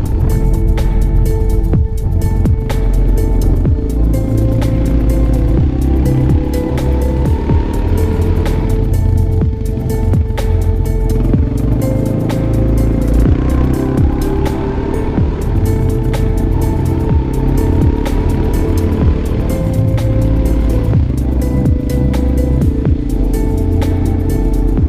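Quad bikes ride across the Dubai desert, their engines droning and revving continuously at close range, pitch rising and falling with throttle over a steady rumble, with no talking.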